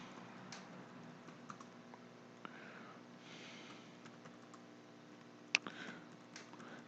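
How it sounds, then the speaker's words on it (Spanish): Keys clatter on a computer keyboard while entering text in Word, soft irregular taps with occasional louder strikes of the Enter key, close and quiet, no talk. "a medida voy pulsando Enter para ir escribiendo y escribiendo"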